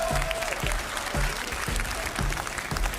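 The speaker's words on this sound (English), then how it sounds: "I think this deserves another cheer" Audience applause and cheering ring out at an esports tournament after a match win, a steady, dense clatter of clapping from a large crowd that fills the whole moment without letup.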